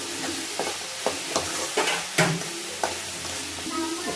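Radish fries in a pan with a steady sizzle, broken by repeated scraping stirs of a spoon that come every half second or so, close and fairly loud.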